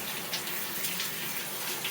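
Water runs steadily from a tap into a bathtub filling up to wash a cat, a close, even gush with no voices.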